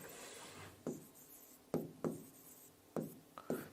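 Marker or chalk writing numbers on a classroom board: five or six short, scratchy strokes in quick bursts, close and fairly quiet, with no talking.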